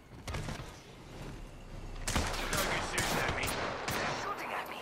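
Gunfire in the video game Apex Legends, a burst of rapid shots followed by a louder, denser volley of close firing with sharp cracks, faint voice in the background.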